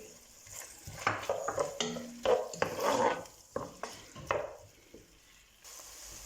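Finely chopped onion is sautéed with meat in oil, with soft sizzling under irregular clinks and scrapes of a spoon stirring the pan. It is fairly quiet and close, with no one talking.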